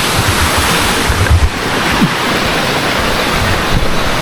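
Pamuayan Waterfalls in Port Barton, Palawan, sends up a loud, steady rush of falling water, a constant close roar with no break or voices.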